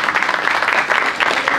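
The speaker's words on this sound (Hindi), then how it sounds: "स्पेशल तालियां बजाना चाहिए" Audience applause at a motivational speech event, a short steady burst of clapping from a crowd.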